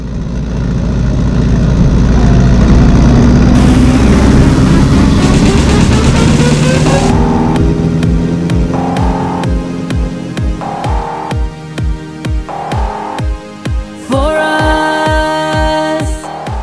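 Small airplane taking off from Kern Valley Airport in California's Sierra Nevada: a loud, steady propeller engine drone builds early, then settles into a constant hum with rhythmic, regularly pulsing clicks layered over it.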